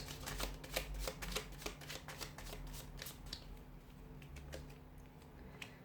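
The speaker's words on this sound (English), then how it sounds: "let's give the cards a shuffle" Tarot cards being shuffled in quick riffling bursts, a papery patter repeating several times, close and fairly quiet with a low hum underneath.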